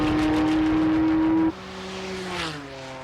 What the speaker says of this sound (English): again we see that Corvette limping in, being destroyed as it goes by the flailing remains of the tyre